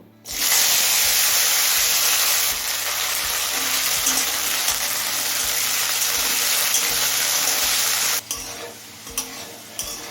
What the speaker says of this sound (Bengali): জিরে শুকনো লঙ্কাটা লাল করে ভেজে নিয়েছি এবার আলুটা ভেজে নেব